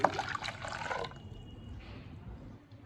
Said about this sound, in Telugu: దాంట్లో కావాల్సిన వాటర్ యాడ్ చేసేసుకొని